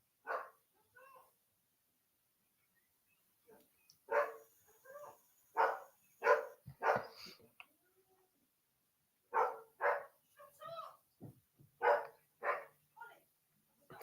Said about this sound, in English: Doggies are barking.